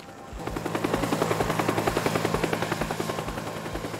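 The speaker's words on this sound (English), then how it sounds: "Oh, there's the helicopter." A video game helicopter approaches and hovers nearby, its rotor thumping in a fast, steady rhythm that grows louder and stays prominent throughout.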